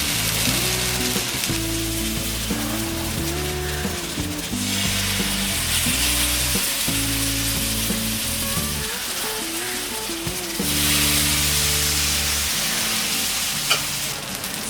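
Rice flour uttapam batter, ladled into a hot pan greased with oil, sizzles steadily and loudly throughout, with background music playing underneath.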